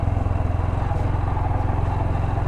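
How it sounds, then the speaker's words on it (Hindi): Motorcycle ridden in second gear along a rough, rain-softened dirt track in Kirthar National Park after monsoon rains, its engine a steady close pulsing drone with rhythmic throbbing and faint clatter, no voices. "सोचना पड़ रहा है बाइक चलाते हुए।"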